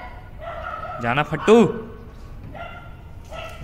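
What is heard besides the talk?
dogs barking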